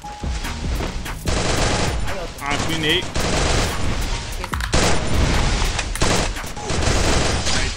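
An MP40 submachine gun fires in the mobile battle-royale game Free Fire, with loud rapid automatic bursts repeating in quick succession and a player speaking briefly over the shooting.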